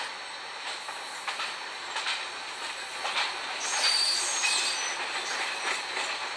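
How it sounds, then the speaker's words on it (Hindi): The Pushpak Express, an LHB-coach passenger train, rolls into Manmad station with a steady rumble of wheels on rail, rhythmic clicking and sustained high wheel squeal and hiss as it slows close by, no voices. "अभी हमारा जो ट्रेन है मनमाड़ में तो अराइविंग चल रहा है इस ट्रेन का।"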